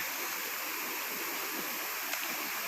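Steady rushing water pours at a natural waterfall in a Thai forest, a continuous broadband roar with no voices.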